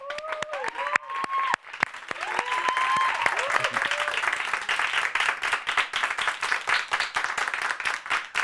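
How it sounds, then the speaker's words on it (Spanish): A crowd applauds comedian Renato Guillén onto the stage, with sharp individual claps at first that build into sustained applause, and whistles and cheers rising over it early on. "Por favor, reciban con un gran aplauso a Renato Guillén."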